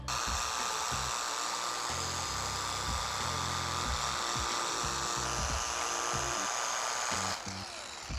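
A machine polisher making a finishing polish pass on car bodywork, a steady whirring drone that shifts in pitch and load as it moves over the panel, fairly faint, with no talk.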